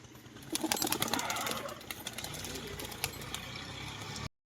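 Pigeons close by at a pigeon sale, with soft cooing and brief bursts of fluttering wings over a busy background.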